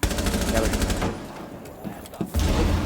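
Gunfire in Rainbow Six Siege, with rapid loud automatic bursts at the start, a brief lull with scattered shots, then another burst, while someone talks over it.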